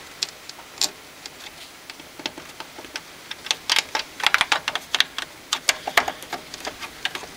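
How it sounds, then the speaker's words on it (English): A faulty fax machine power supply ticks steadily, with rapid, uneven clicks that bunch up and thicken midway, clear and close against a low electrical hiss. "Still doing that ticking sound"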